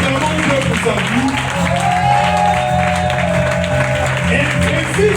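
A church congregation applauding to acclaim the Lord, loud sustained clapping from many hands filling the hall, with voices and singing blended underneath throughout.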